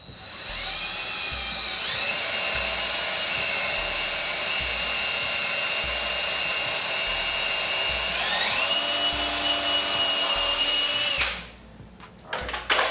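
A power drill boring a pipe hole whines steadily for about eleven seconds, its pitch rising partway through as it bites, then cuts off, followed by a few handling clunks.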